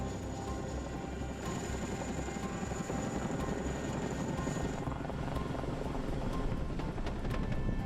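A Chinook twin-rotor helicopter flies nearby at an oil operation site in Papua New Guinea, a loud continuous rotor throb and engine roar holding steady throughout.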